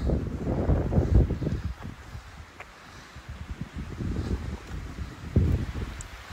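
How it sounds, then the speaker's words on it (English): Wind gusting on an Appalachian Trail mountain path near Saddleback Junior, buffeting the microphone in low rumbling surges that rise and fall, with a faint rustle between gusts and no voices. "The way the wind's blowing today though, I feel like by the time we get up there, it'll still be blowing."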